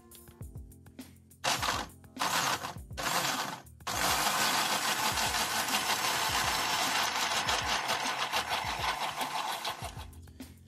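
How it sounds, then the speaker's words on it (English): A blender whirs at full power blending a thick vegan pasta sauce, starting with a few short pulses and then running loud and steady before easing off, with no talk over it. "Now we blend."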